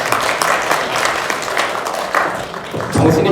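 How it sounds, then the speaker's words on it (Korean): Dense, continuous clapping from a lecture audience fills the whole stretch, steady and fairly loud with no voices standing out. "박수 쳐주세요."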